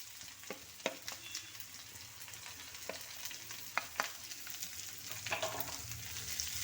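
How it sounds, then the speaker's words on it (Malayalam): Chopped onions sizzle and crackle steadily in a hot pan, with scattered clicks and scrapes of stirring, moderately close and with no talking. "ഇനി ഇതിലേക്ക് നമ്മൾ എടുത്ത് അരിഞ്ഞ് വെച്ചിരിക്കുന്ന സവാളയാണ് ഇട്ട് കൊടുക്കുന്നത്"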